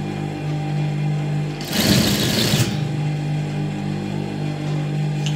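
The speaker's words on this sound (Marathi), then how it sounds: "पूर्णपणे टिप मारून घेतलेली आहे." A sewing machine stitches net fabric for a sleeve or neckline in one short, loud whirring burst of about a second, with a steady quiet hum before and after.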